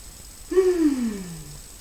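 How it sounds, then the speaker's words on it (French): A person yawns after abdominal exercises on the floor, with one clear, drawn-out breathy exhalation that slides down in pitch and trails off. It is close and quiet, with no talking. "le bâillement qui permet de décontracter un petit peu"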